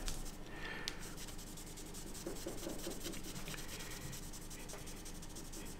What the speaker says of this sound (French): je reprends un autre bout de microfibre et pareil